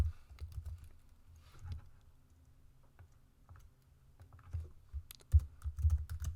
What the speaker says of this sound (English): Then I'm going to type in my question words.